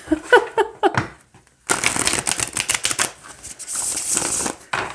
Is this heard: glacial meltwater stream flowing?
no